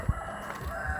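A rooster or chicken on a roadside during a long morning walk sounds once in a short, clear burst near the start, with steady outdoor background noise after it.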